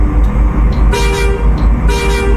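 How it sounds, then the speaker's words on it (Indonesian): Original factory horn on a modified bus from Kuningan, blaring loud and close in two long honks separated by a short gap, with the engine rumbling underneath. "ini masih klakson ori"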